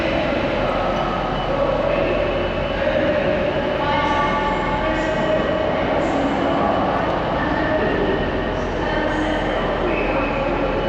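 Busy ambience on a London Euston station platform: a continuous low rumble of trains and machinery with scattered clanks and reverberant crowd murmur, steady and fairly loud throughout, with voices mixed in.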